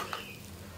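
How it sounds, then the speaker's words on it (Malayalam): Ground coconut paste with a hot tempering is stirred together for Kerala sadya apple kichadi, making a brief, steady sizzle close by with no voices. "ഇനി അരപ്പും വറവും കൂടി നന്നായിട്ടൊന്ന് മിക്സ് ചെയ്ത് റെഡിയാക്കിയെടുക്കാം."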